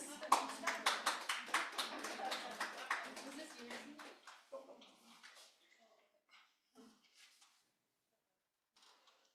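A short burst of applause from a small group that thins out into a few scattered claps and fades away, with some background murmur.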